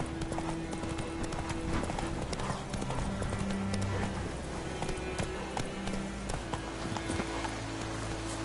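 Roach, the horse in The Witcher 3, gallops with a rapid, continuous clip-clop of hooves, heard loud and close over game ambience and low music.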